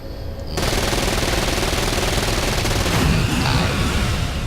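SMG fire in Saints Row: Gat Out of Hell, a loud continuous rapid stream of shots that opens abruptly and keeps hammering without pause, with a heavier impact near the end.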